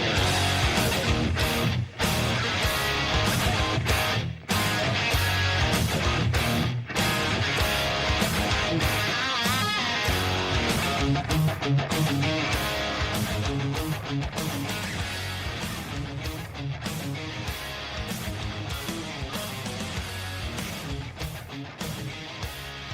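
Electric guitar part from a rock song plays within a dense, loud full-band mix with steady driving rhythm and sharp accents throughout, no voices talking over it.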